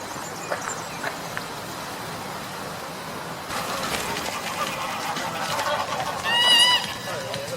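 Greylag geese at the Diagonal Mar park lake honk in scattered calls over a bed of ambient outdoor noise, with a louder burst of honking near the end.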